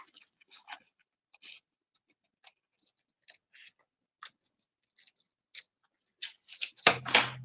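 Paper being cut with a large pair of scissors during a crafting session, a series of short, crisp snips spaced irregularly and close by, quickening into a denser, louder burst of cutting at the end.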